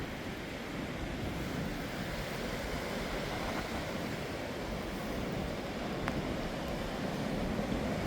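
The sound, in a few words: choppy waves on the coast of Ireland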